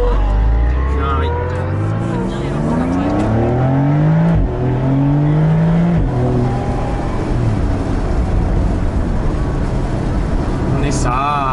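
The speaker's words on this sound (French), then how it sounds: "Ferrari." A 1965 Ferrari engine revving through the gears while driving, loud rising and falling tones with sharp shifts, heard from inside the car; people talk briefly over it.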